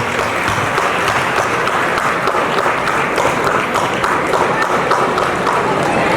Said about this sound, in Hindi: जोरदार तालियां दोनों हाथों से।